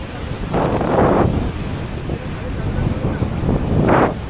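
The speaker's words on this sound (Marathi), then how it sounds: "बाबा लाटा बघ. अरे ती लाट कसली आहे बघ, ती बघ कसली आली." Ocean waves roll and crash at Harihareshwar beach, a broad roaring wash that swells and fades, heavily mixed with loud wind buffeting the microphone.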